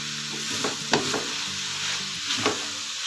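Chicken masala and vegetables sizzle in a frying pan while being stirred, a continuous close hiss broken by a few scraping strokes of the spoon against the pan, with no talking.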